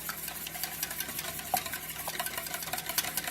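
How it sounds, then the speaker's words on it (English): Eggs for a Greek omelet are beaten in a large bowl, a quick run of close wet clicks and scrapes of utensil against the bowl in irregular rhythm, with no talking. "Make sure you have a big enough bowl so that way you guys can scramble this in the bowl"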